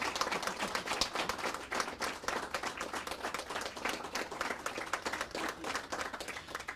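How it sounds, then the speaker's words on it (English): Sparse, sharp clapping from a small audience after a talk on goal setting, individual claps distinct and fairly faint, fluttering unevenly for several seconds without speech. "Let's all give Roger a big round of applause"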